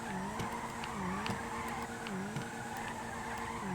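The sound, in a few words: car sliding and tyres squealing while drifting, from a video game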